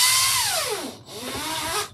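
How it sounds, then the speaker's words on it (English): A Walthers drill bit bores into model railroad track, a short high-pitched whining grind that dips briefly, then resumes at a steady pitch, close and alone. "Now this drill bit that I'm using,"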